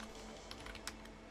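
Computer keyboard typing in quiet, scattered soft clicks over a faint steady hum, close by and alone.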